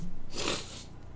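A single sneeze brought on by allergies bursts out close to the microphone, a short, sharp, breathy blast lasting about half a second that fades into quiet room noise.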